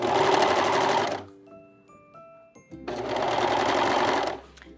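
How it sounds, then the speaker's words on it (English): A serger whirs fast and loud while stitching elastic into the leg opening of high-waisted bikini bottoms. One long close run stops, there is a quiet pause with small handling clicks, and a second run follows. "I can just serge it again and go back and add the elastic."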